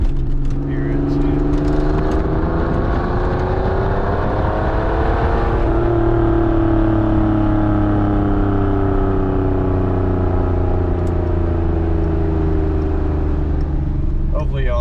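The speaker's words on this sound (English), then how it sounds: "Hopefully y'all at least heard the exhaust then" A 1988 Pontiac Fiero's exhaust droning while driving, a steady engine tone that drops in pitch at a gear shift and then holds, loud and close inside the car.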